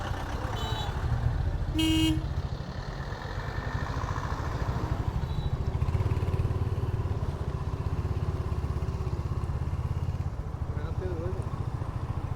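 Roadside traffic jam on the way from Siliguri, with cars and motorcycles idling and revving in a constant rumble, a sharp horn blast early on and a few more honks, voices talking over the din.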